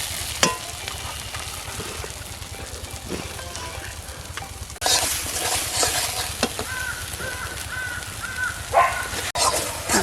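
Mustard paste frying with spices in a pan for a Bengali village-style lote fish and eggplant jhal, a steady sizzle with stirring scrapes that grows louder and brighter partway through, with faint bird calls in the background.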